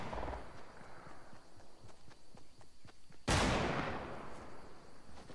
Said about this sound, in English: I hear some gunshots over here